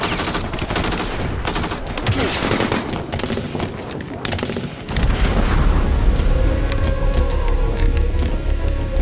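Gunfire during a Taliban insurgent attack on a military base, dense bursts of rifle and machine-gun shots with heavy booms, loud and chaotic, turning into a rumbling roar of fire in the second half.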